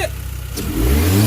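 Hyundai Genesis fitted with a K&N cold air intake, engine revving up loudly and close in a single short rise from idle.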